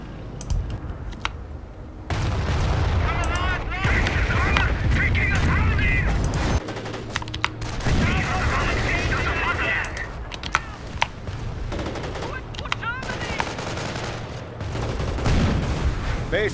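Wartime battle in the strategy game Company of Heroes: Tales of Valor during an incendiary attack, with roaring bursts of gunfire and explosions, dense crackling combat noise and sharp impacts, and a voice talking over the fighting.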